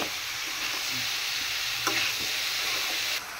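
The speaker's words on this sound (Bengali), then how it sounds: "মাছ ভাজার যে তেল ছিল সেই তেলের মধ্যে রান্না করার জন্য মশলা কষাই নিতেছি" Spices being sautéed in oil left over from frying fish, with steady close sizzling broken by a few stirring scrapes of the spoon in the pan; no talking.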